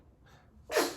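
A single sharp sneeze from a small boy bursts out loudly near the end, after a faint breathy intake and some quiet room noise.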